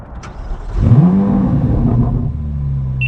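A Chevrolet Corvette C8 Z06 fitted with a Soler 91mm throttle body pulls away from inside the cabin, its engine rising in pitch and then settling into a steady, loud rumble.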